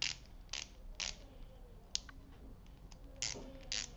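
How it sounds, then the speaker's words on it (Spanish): A small plastic ratchet on a Hychika SD-4C electric screwdriver clicks in a quick, uneven series of sharp, close ticks, fairly quiet and alone with no voices. "una pequeña carraquita. Es de plástico"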